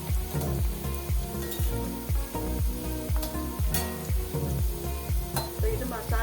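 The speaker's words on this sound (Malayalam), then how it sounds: "ഇളക്കി കൊടുക്കണം ഇത് മൂട്ട് വരുന്നത് വരെ ഇടയ്ക്കൊന്ന് ഇളക്കി കൊടുത്തുകൊണ്ടിരിക്കും" Jackfruit pieces sizzle in a hot pan while a utensil scrapes and stirs in a steady, repeating rhythm, close up with no voices.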